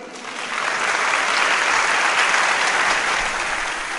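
Sustained applause from an audience welcoming a speaker at an academic gathering, a dense, steady wash of clapping that swells in and holds loud for several seconds with no voices over it.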